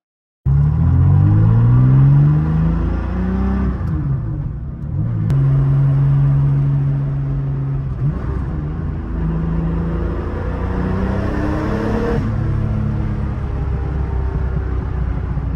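A Porsche Carrera RS 2.7 tribute fitted with a 3.4-liter twin-plug 1989 Porsche 930 engine pulls away and drives, its flat-six rising and falling through several gear changes, loud and close from inside the car.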